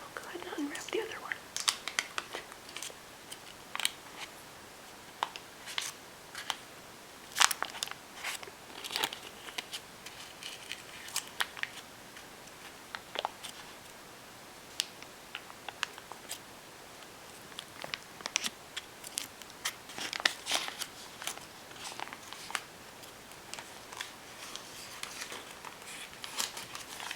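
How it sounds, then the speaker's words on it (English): Close, crinkly wrapper noises come in quick irregular bursts as a wrapped ingredient is peeled open in a home kitchen while baking chocolate chip cookies, with soft crackles and taps spread throughout. "I'll go ahead and unwrap the other one"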